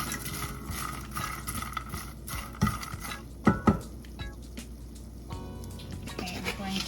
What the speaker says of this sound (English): We're just going to stir ever so often while the pork rinds are toasting